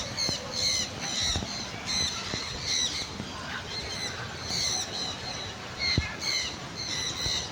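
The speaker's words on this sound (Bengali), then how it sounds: "অনেক সুন্দর পাখি।" Birds calling at a scenic spot near a waterfall, with repeated harsh squawks and chirps in bursts over a steady outdoor hiss, with a few knocks.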